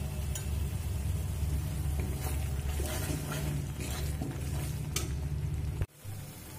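A spice paste of lentils and pointed gourd with strained yogurt sautés in a pan, giving a close, dense sizzle with stirring scrapes, then a sudden drop near the end as it quiets.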